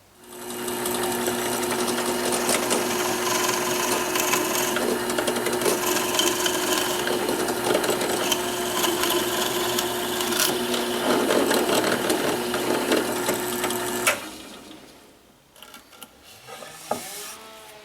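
A power drill bores a 5/16-inch hole into wood for about fourteen seconds, a loud continuous whir, then stops, followed by light clattering.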